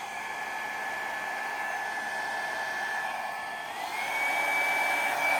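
Hair dryer blowing across poured acrylic paint in a Dutch pour, a steady close whooshing roar with a whining tone that rises in pitch partway through.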